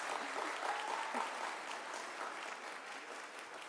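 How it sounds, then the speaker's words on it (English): A church congregation claps their hands together in a dense, steady wash of applause. It holds at an even level for a few seconds, with faint voices mixed in beneath it. "I think they want you to clap your hands."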